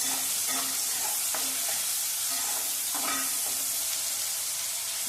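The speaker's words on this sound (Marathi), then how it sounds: "चला आपण आता कांदा छानसा परतून घेऊया" Onion sautés in a pan with a constant, loud sizzling hiss. Stirring sends a few soft clinks and scrapes through it, and no voices are heard.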